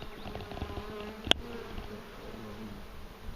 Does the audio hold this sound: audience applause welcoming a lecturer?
no